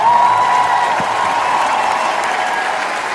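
A concert audience applauds for the singer: dense, sustained clapping from a large crowd, loud and continuous throughout, gradually easing slightly, with no talk over it.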